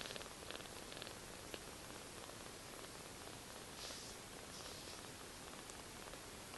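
A kitten's steady, soft purr rumbles continuously, close and unbroken, with a faint hissy texture behind it.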